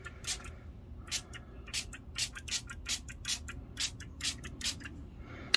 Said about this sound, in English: So I'm just gonna spray a little bit.